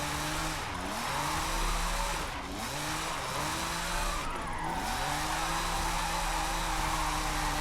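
A 900-horsepower Ferrari 599 drift car in a racing video game, traction control off, roars with repeated rising and falling revs while its tires squeal continuously through the slides.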